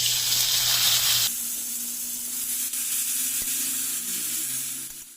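Grated pumpkin dropped into a hot pan for pumpkin halwa, with a loud hissing sizzle that abruptly settles into a quieter, steady frying sound that fades out.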